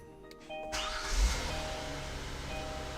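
A 2016 Kia Sorento starting after a battery replacement: a short starter crank catches quickly, the engine fires with a brief rev, then settles into a steady idle, recorded close inside a garage.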